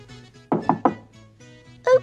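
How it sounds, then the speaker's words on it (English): Three firm knocks at a door in a Mr. Men and Little Miss cartoon story, evenly spaced and close, followed by a short vocal sound. "there was a knock at the door"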